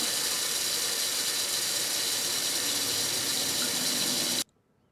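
Hot water rushes loudly and steadily into the tank of a Shark CarpetXpert EX205 carpet cleaner, then cuts off abruptly near the end, leaving near silence.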